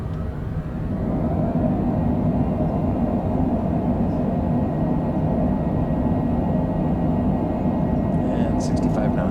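Thrust reversers on a Longitude business jet roar as it lands early in the morning at Brunei WBSB, a loud, steady broadband rush that fills the cabin throughout, with a brief higher chirp near the end.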